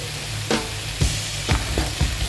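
Peeled, cut zucchini pieces hitting a hot pan, with a steady close sizzle and four sharp clatters roughly every half second as they drop in or are stirred.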